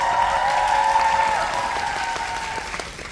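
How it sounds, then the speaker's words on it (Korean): A fan meeting audience applauding for a musical actor, a steady roar of many hands clapping in a hall, loud and continuous, easing slightly near the end, with a faint tone beneath. "박수 부탁드립니다"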